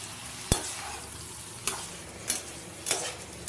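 Masala frying in a kadai hisses steadily at a low level while a spatula stirs it, with a few sharp scrapes and taps of the utensil against the pan at irregular intervals.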